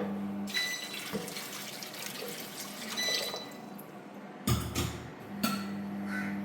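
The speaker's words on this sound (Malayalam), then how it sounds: "അതിലേക്ക് ആവശ്യത്തിന് വെള്ളം" Water poured from a tap or jug into a pressure cooker holding chopped potato and garlic, a steady close splashing stream with brief pauses and sharp bursts near the end.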